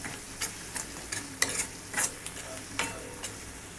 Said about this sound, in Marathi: या ठिकाणी थोडंफार आपल्याला मसाले हे शिजवून घ्यायचे तेलामध्ये